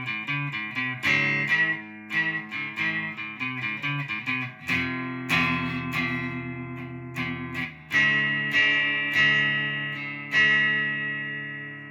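Distorted electric guitar plays the end of the verse riff, with rhythmic chord stabs on strings four, three and two in repeated groups, loud and close, with no talking.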